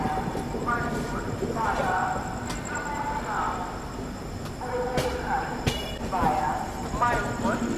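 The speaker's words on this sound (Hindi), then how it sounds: "इससे अभी अपनी ट्रेन डाइवर्ट हो रही है मानिकपुर वाली लाइन पे" The Bundelkhand Express rolls along a diverted line toward Manikpur, its wheels clacking rhythmically over rail joints with a steady rumble and a few sharp metallic knocks, heard from inside the train.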